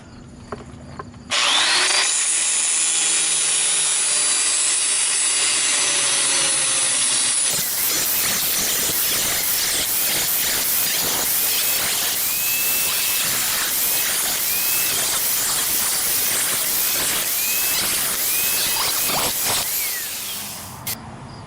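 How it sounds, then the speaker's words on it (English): An angle grinder cuts into a nut along its side while removing a link arm on a 2003-2007 Saturn Ion. It starts with a steady high whine, then a loud, harsh grinding runs continuously for about thirteen seconds before it cuts off. "I took my grinder and I cut straight into it along the side"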